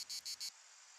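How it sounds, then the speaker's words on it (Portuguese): Cicadas call on a hot summer day along the coast near Almada, three loud buzzing pulses in quick succession, then a thinner steady drone continuing alone. "as cigarras fazem-se ouvir a centenas de metros"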